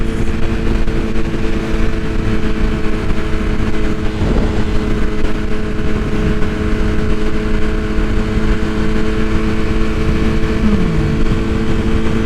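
A BMW M1000RR sport motorcycle pulling from a third-gear roll-on at speed on the road, giving a loud, steady engine drone with a strong tonal hum and wind rush throughout.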